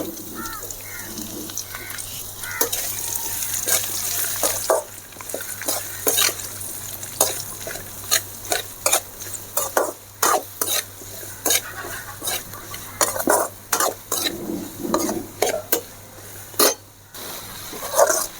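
Onions sauté in a pan for onion thokku while a spoon stirs them close by, with faint sizzling under repeated sharp scrapes and clinks that come in uneven bursts and no talk.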